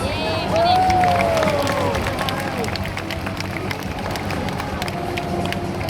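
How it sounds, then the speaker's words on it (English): Crowd at the Singapore Army Open House 2017 dynamic display applauds and cheers for Apache Longbow helicopter pilots, a loud continuous wash of clapping and voices with whistles and calls rising above it. "let's give our pilots a round of applause"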